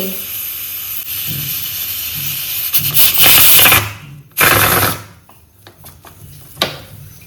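Steam hissing from a pressure cooker whistle in a home kitchen, two loud bursts of broadband hiss, the first longer, then fading into quieter room noise.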